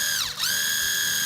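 Robot lawnmower motor whirring close up with a steady high-pitched tonal whine that sweeps briefly down and back up in pitch, then holds constant.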